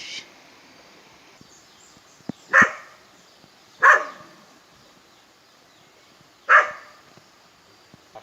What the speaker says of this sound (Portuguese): cachorro vai morder, né?